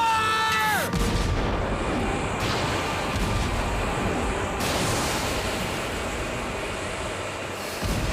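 A ship in a sci-fi fantasy film fires, sending out a heavy booming blast after a brief tonal sweep, followed by a sustained rumbling roar that lingers for several seconds.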